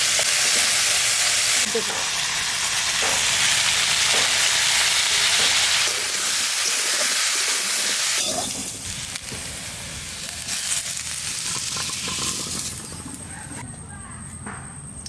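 Bottle gourd greens fry and sizzle loudly in an open pan while being stirred with scraping and clattering. The frying noise fades partway through, and a voice speaks briefly.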